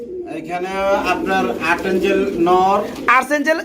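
Pigeons coo at a pigeon sale where white Beauty and Magpie male birds are on offer. Soft cooing runs beneath steady close male conversation throughout.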